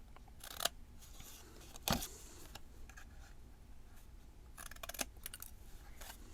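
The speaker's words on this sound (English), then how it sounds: "Almost done snipping this out. I know it's not very exciting seeing me cut" Scissors cut out a paper star ornament, giving quiet, close snips and crisp cuts scattered irregularly over a faint background, with no voices.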